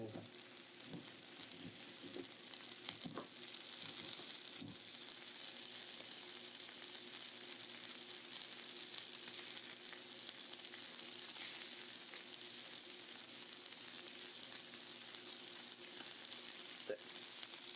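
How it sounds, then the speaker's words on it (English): Butter melts in a pan for garlic butter mushrooms, giving a steady, faint sizzle throughout with a few soft clicks near the start. "While our butter is melting, we will add our mushrooms."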